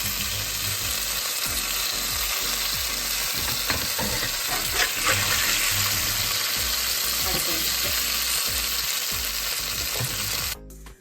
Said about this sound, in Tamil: இப்போ பாருங்கள் அருமையாக ரோஸ்ட் பண்ணுறது